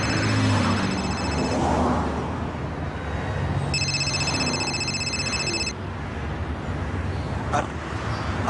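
A phone rings in two bursts of electronic trilling tones over a background of traffic and room noise, fairly close, with a short pause between rings.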